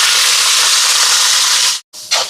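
Onions frying in hot oil with mustard seeds, fennel, green chillies, curry leaves and dried chillies in a large pot, giving a loud, steady broadband sizzle that drops out briefly near the end before resuming.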